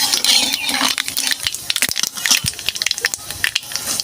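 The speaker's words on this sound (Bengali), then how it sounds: "এবার তেল দিয়ে দেবো। কালো জিরে ফোড়ন দেবো।" Nigella seeds (kalo jeere) dropped into hot oil for tempering, giving a loud, close, crackling spatter of rapid pops and sizzles that carries on throughout.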